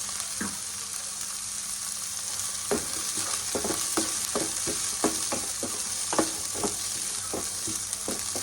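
Green peas frying in a pan, a steady soft sizzle broken by repeated scraping stirs of a spatula, close and alone without talk.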